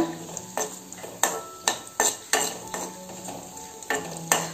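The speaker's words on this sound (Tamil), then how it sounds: "இதை நல்லா மிக்ஸ் பண்ணிக்கோங்க." Cashews frying in a pan for a Tamil variety rice dish are stirred with a spatula, giving a steady sizzle broken by about ten sharp scrapes and clinks against the metal at an uneven pace, close and clear with no talk.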